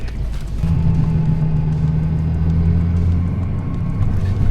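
A high-mileage Toyota 4Runner with old suspension grinds through sand in four-wheel-drive low, its engine a steady, loud, close rumble with a low droning hum that holds throughout.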